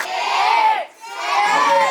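A village audience at a Home Minister paithani-saree game show in Koproli, Uran, gives a brief, loud burst of cheering and applause for a woman contestant, with a short dip midway.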